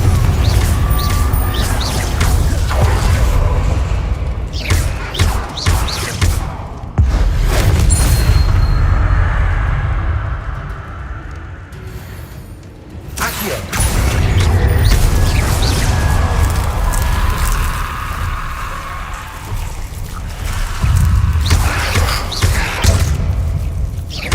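Confringo blasting spells hit repeatedly in a Harry Potter video game, with loud deep booms and thuds arriving in bursts across a long stretch of game action, briefly dropping quieter between volleys.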